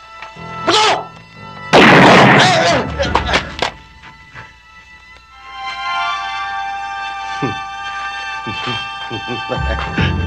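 Shouting voices broken by a sudden loud blast like a gunshot, then a ringing, tonal musical drone with more scattered shouts.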